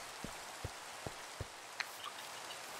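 Rain falling in the Minecraft overworld, with sparse individual drops tapping at irregular intervals over a faint hiss, quiet and close.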